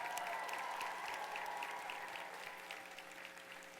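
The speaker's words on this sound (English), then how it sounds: "Give them a big round of applause." Commencement crowd of graduates applauding their families, a broad sustained wash of clapping that fades slightly over several seconds, heard at a distance in a large ceremony space.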